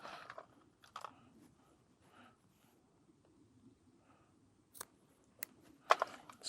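Excess fishing line is trimmed off a leader loop for carp fishing, giving a couple of quick, faint snips near the end amid quiet handling noise.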